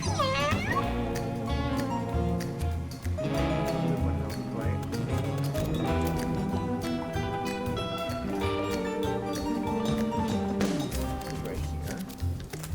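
Cartoonish cats in the video game Mewgenics meow several times over busy game music and sound effects, the calls sliding up and down, with a voice talking over them.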